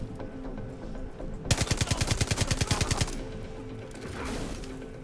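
MP40 submachine gun in the video game Far Cry 6 rattling off one rapid, evenly spaced burst of roughly twenty shots, loud and close, between quieter stretches of game ambience.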